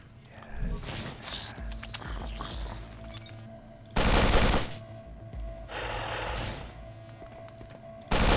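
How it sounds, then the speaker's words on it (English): Heavy assault rifle fire aimed at a snake in the video game The Pit, loud bursts of gunfire at about 0 to 1, 4 to 4.6, 6 and 8 seconds over a steady game ambience, with someone speaking in between. "Oh, what do I want to use to kill it? Sure, heavy assault rifle sounds good."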